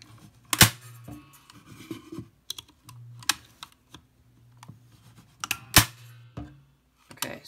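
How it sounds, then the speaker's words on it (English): Several sharp snapping clacks of a stapler driving staples through plastic tabs cut from a pop bottle, irregularly spaced with quieter handling rustles between, close and alone. "So I'm going to take the stapler and staple the tabs."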